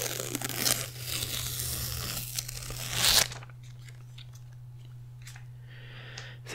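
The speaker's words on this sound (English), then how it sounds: "I'm going to go ahead and take the tape off." Adhesive tape peeled off in a close, intimate ASMR setting, a loud crackling rip lasting about three seconds that cuts off abruptly, followed by quiet room tone with faint soft rustles and a low steady hum underneath.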